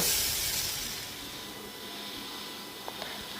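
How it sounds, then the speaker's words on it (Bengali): Rice and mung dal being fried in a pan for bhuna khichuri: a steady, fairly loud broadband hiss that eases slightly after the first second, with a couple of faint clicks near the end and no talking. "চাল আর ডাল যে মেশানো আছে মানে মেখে রেখে দিয়েছি ওটাকে আমি ভালো করে কষিয়ে নেব।"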